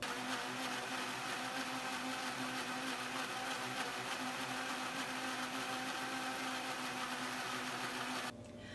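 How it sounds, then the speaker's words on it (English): A blender whirs pumpkin seed milk at a loud, steady high drone for about eight seconds, then cuts off abruptly, with no voices. "I'm gonna pop on the lid and blend this baby up"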